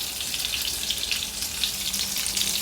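Chicken fillet frying in hot oil gives a steady, dense sizzle with fine crackling pops, close and even throughout, with no voices.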